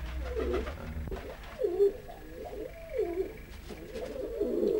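Pigeons coo close by in soft, throaty rolling calls, several phrases in a row over a quiet background.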